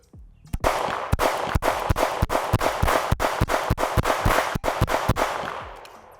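An OA Defense 2311 Compact Pro pistol firing a rapid string of about a dozen sharp, loud shots at an uneven pace, each crack followed by a short ringing decay, with no voices.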